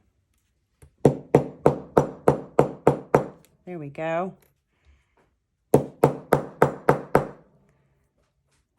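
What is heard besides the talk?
small hammer tapping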